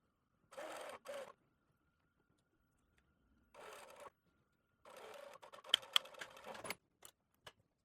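A home sewing machine stitches a seam on a twist-front summer top, running in two short bursts and a longer stretch, with clicks and small handling noises between runs.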